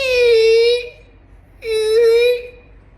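A voice imitates a squeaky race car with two drawn-out, high whining squeals separated by a short pause, loud and close.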